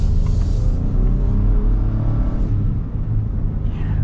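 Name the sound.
2025 Ford Tremor truck accelerating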